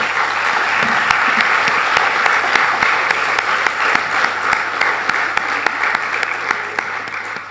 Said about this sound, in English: I give them a big round of applause.